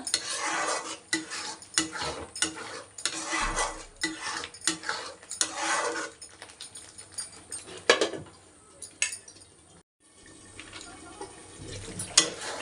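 Mixed vegetables stirred with a metal spoon in a pan over a slow flame, a rapid series of close scraping and clinking strokes, later easing into quieter intermittent scrapes over a faint background hum.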